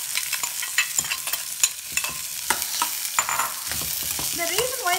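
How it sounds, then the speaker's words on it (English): Onions go into a hot pan with roasted curry leaves and fennel seeds for a vegan potato curry, giving a steady close sizzle and frying hiss broken by repeated stirring scrapes, with no talking. "And now I'm going to add the onions."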